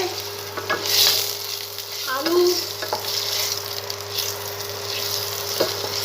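Potatoes fry in a pan with salt as vegetables are prepared, a steady close sizzle with occasional stirring scrapes and clinks throughout.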